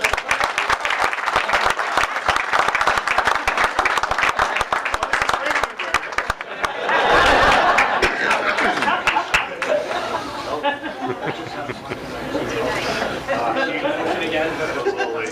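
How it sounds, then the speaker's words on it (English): An audience at a borough inauguration and reorganization meeting gives loud, sustained applause with dense clapping and chatter. Laughter and voices rise midway, and talking continues as the clapping thins out. "we can have a big round of applause."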